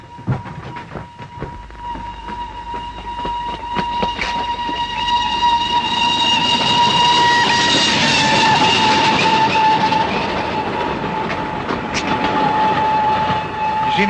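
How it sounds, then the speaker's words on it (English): An express steam train on a 1937 railway approaches and passes close by, its roar swelling to a loud, steady rumble with a sustained horn-like whistle tone and rhythmic clatter of wheels, no talking. "The down express in it will be here any minute."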